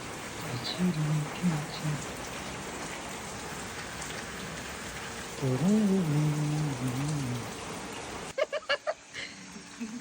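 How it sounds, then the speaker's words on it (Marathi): Heavy monsoon rain pours steadily outside a room at the Matheran hill station, a dense, close wash of sound. Voices speak briefly partway through, and a few sharp knocks come near the end. "दरवाजा उघडला आणि बाहेर मस्त पाऊस चालू आहे."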